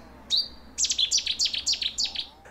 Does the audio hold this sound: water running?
no